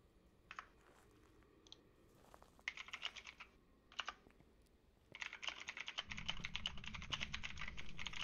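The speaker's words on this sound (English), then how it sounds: "I can hear your keyboard." Computer keyboard typing during a Phasmophobia gaming session, a run of quick clicky keystrokes in bursts that turn into fast continuous typing, fairly close over a low background.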